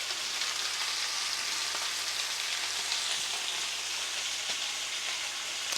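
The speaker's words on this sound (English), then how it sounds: "Now I am here cooking oxtail for a friend, and she likes her oxtail simple" Oxtail sizzles steadily in a hot pan, a dense continuous crackling hiss that stays even and close throughout with a few faint pops and clinks.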